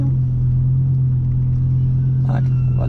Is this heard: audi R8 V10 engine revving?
yes